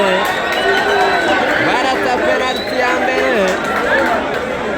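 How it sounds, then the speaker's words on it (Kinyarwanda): Etincelle FC supporters at a football penalty shootout against Bugesera FC at Stade Umuganda, a dense, loud crowd roar with whistles and excited shouting running throughout. "Abo ni abafana b'ikipe ya Etincelle"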